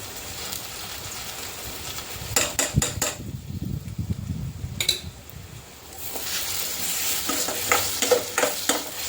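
Vegetables for spicy Yippee noodles sautéing in a pan with a pinch of salt, bursts of sizzling between sharp scraping and clinking strokes of a spatula against metal, a quieter stretch in the middle; no one speaks.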